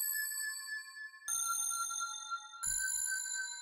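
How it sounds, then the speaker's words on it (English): Synthesized analog-style bell tones from a sample library ring out as three struck notes, each with bright sustained metallic overtones that decay slowly before the next strike, clean and alone without voices. "I like these analog bells"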